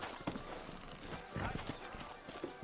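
Horse hooves clip-clop at a steady trotting rhythm in the video game Red Dead Redemption, fairly close, with faint game voices and ambience around them.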